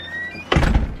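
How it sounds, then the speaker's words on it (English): A house door swings shut with a single solid thunk about halfway through, close and loud, following a quiet moment with a faint high whine. "Let me close the door."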